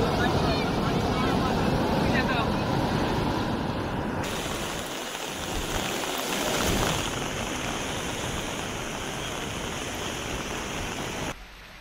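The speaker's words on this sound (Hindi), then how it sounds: "दरअसल कई घंटे से लगातार बारिश हो रही है" Heavy rain and floodwater during a storm: a broad, constant roar of rushing water and downpour, loud and near, running steadily for about twelve seconds.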